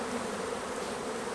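Honey bees buzz densely inside an open beginner's beehive during a frame inspection, a loud, close, unbroken swarm hum with no voices.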